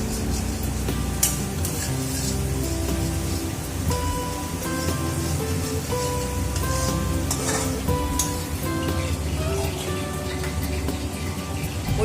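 Paneer fries in a pan with ginger, giving a steady, dense sizzle that crackles continuously at moderate volume, close and unbroken throughout.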